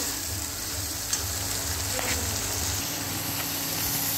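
Spice paste of ground ginger, garlic, tomato and green chili frying in a pan for stuffed potato dum, a steady close sizzle with a low hum and a few faint stirring clicks.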